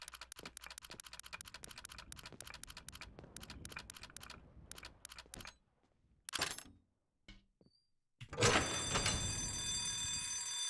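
Rapid dry clicks from a safe dial turning during a video game safe-cracking, a steady ticking run for several seconds before quieter gaps and a louder, denser burst of game noise.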